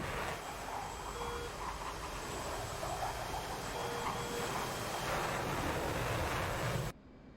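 A jet aircraft cruises at high altitude near Mach 0.83 in a flight video game, a steady, even engine roar and rushing air that holds constant before cutting off abruptly near the end.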